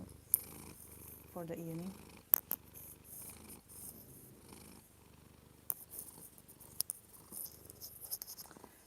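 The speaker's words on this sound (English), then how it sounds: "Here, have some of the purring" A cat purrs softly and continuously close up, with a person speaking briefly and a few sharp handling clicks over the purr.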